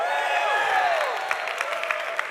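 An audience applauding for Ron Paul at a Bitcoin conference talk, a steady wash of clapping and cheering from a crowd in a hall, with a few sharper claps standing out toward the end.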